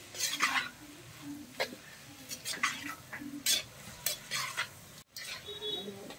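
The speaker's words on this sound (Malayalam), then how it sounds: "നന്നായിട്ടൊന്ന് വഴറ്റിയെടുക്കണം." Shallots sautéing in hot oil in a pan, stirred with a utensil: a soft steady sizzle broken by repeated scraping and clinking stirs at an uneven rhythm, close and fairly quiet.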